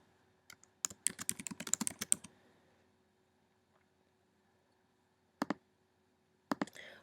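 Bursts of typing on a computer keyboard while entering applicant details into a form: a quick run of close, crisp key clicks, then silence, followed by two short isolated clusters of keystrokes.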